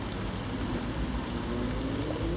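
Steady rain falling outside a shed under construction, a continuous even hiss with no clear individual drops, heard at moderate level from indoors with no talk.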